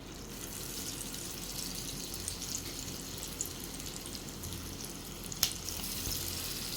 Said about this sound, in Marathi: आपल्याला ह्या शॅलो फ्राय करायच्या आहेत